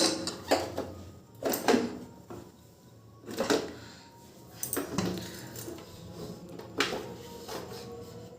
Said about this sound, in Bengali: এবারে যে প্রেশার কুকারের ঢাকনাটা কিন্তু আমি আটকিয়ে দিচ্ছি